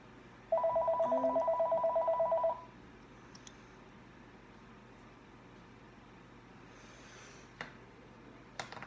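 A telephone rings in a rapid electronic trill for about two seconds and then stops, followed by quiet room noise with a few small clicks and handling sounds.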